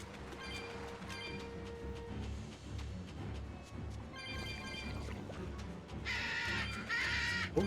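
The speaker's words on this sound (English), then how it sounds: "Birds." Crows cawing in the Tales of Berseria video game, repeated harsh calls over rumbling game sounds and music, with a louder burst of bird noise near the end.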